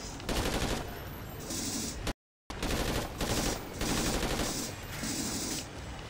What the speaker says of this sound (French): Ça tire par les scorpions en dehors, c'est énorme